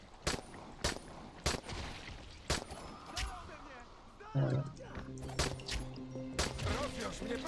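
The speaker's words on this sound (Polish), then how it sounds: "słyszę strzały. Tak, ja strzelam." Several sharp, loud gunshot cracks in the video game Dying Light, spaced irregularly, with game effects and someone speaking briefly in Polish in between.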